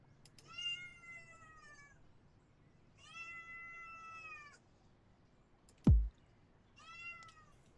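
A baby kitten in a pet shop simulator game gives four drawn-out, clear meows spaced a couple of seconds apart, with a sharp loud click between the last two and a quiet background.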